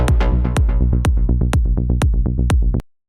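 A rich, bright melodic techno synth plays a repeating plucked pattern, each note striking sharply and decaying, looping steadily before cutting off abruptly.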